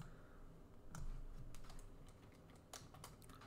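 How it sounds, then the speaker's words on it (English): Typing on a computer keyboard, with a final press of the enter key, comes through as a scattered run of quiet, crisp key clicks with short pauses between them, close to the microphone and with no talking. "Press enter on my keyboard."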